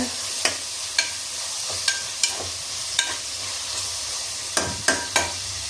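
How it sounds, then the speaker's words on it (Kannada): Food frying in a pan with ghee and a little oil, with a low continuous sizzle broken by sharp clicks of a utensil striking the pan at irregular intervals, close and moderately loud. "ಫ್ರೈ ಆಗ್ತಾ ಇದೆ."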